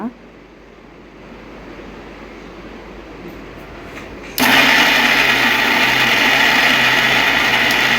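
A mixer grinder grinds chana dal batter with garlic, ginger, dry red chillies, cinnamon, cloves and salt: a low hum gives way to a sudden, loud, steady whirring roar that runs to the end.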